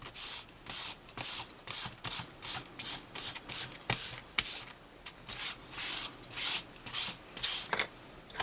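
An embossing tool rubbed back and forth over card paper while making a poinsettia Christmas card, a quiet papery swishing in steady rhythmic strokes, about two per second, close up with no talk.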